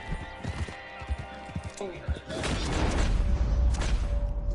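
Horse in Red Dead: hoof clops and thuds scrape over rough ground, then a louder tumbling rush as horse and rider fall off a cliff, with a voice talking over it.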